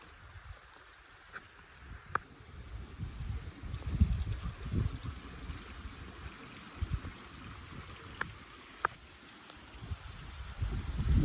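Gentle water flowing in a small stream in a desert canyon on BLM land, a soft steady trickle with low rumbling wind, quiet and without voices, with a few faint clicks.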